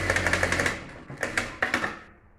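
A Yuki Special flat-bed industrial sewing machine runs after a repair, giving rapid rhythmic bursts of stitching that start, pause briefly, then resume in short runs before fading.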